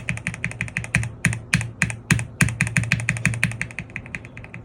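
Keystrokes on a KC87 mechanical keyboard fitted with Gateron Pro Milky switches and switch foam, a steady run of muted, soft-bottomed clicks at an even typing pace, close and alone with no voices.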